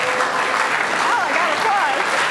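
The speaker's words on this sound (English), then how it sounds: "I got applause" A dense wash of audience applause fills a talk, steady and loud throughout, with a voice and a few whooping calls rising over the clapping.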